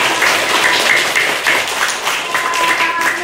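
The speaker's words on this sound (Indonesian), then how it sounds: "Ayo tepuk tangan." Schoolchildren in a classroom clap their hands together in a quick, dense patter, with a few young voices calling out over the clapping.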